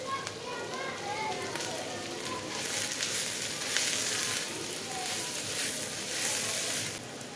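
Steady loud sizzling from a frying pan as chopped garlic and vegetables for a crispy potato snack hit hot oil, a continuous crackling hiss throughout, close up.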